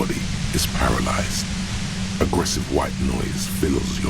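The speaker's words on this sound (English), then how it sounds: "Aggressive white noise fills your skull." Aggressive white noise static in the Disco Elysium video game, a loud, steady broadband hiss that fills the whole stretch, with faint voice-like fragments flickering through it.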